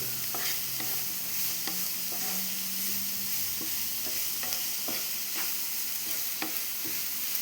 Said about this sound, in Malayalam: ഉള്ളി ഒന്ന് വഴന്ന് വരട്ടെ